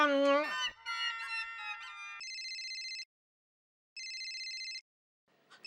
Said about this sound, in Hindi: प्लीज फोन उठाइए